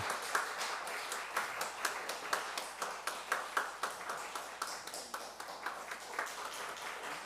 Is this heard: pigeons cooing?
no